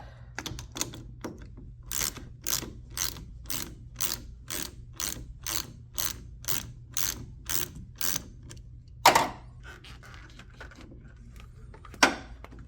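A socket ratchet clicks steadily through a run of about a dozen even strokes as a starter cable nut comes off a 1983 Buick Regal, with a couple of louder clunks afterward, close up and without talk.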